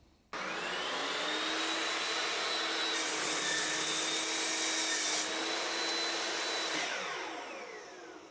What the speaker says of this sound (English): The aluminum blade takes no effort to cut.